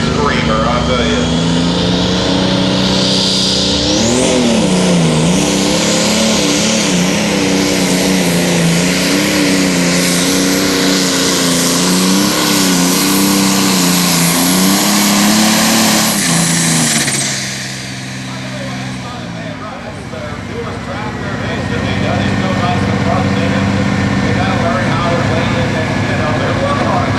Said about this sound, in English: Getting ready to build up the RPMs in the John Deere.